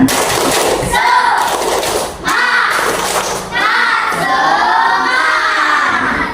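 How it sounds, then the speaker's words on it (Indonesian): A class claps a fast, driving 'tepuk semangat' spirit clap, loud and close, with children's voices shouting along in bursts. "Tepuk semangat."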